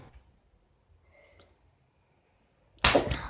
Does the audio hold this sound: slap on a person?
yes